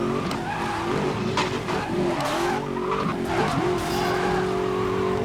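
A Ford GT in the video game Need for Speed Most Wanted skids with a loud, sustained tire squeal over a steady roaring engine, continuous for several seconds with no talking.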